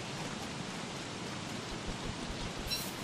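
Steady rain hisses as a continuous, even wash in the survival video game Don't Starve: Reign of Giants, moderately quiet with no voices over it.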